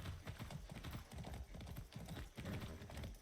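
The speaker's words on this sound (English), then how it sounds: "All right, horse, let's get moving." Horse hooves clip-clop steadily in Far Cry 6, a continuous rhythmic trot heard up close with no talking.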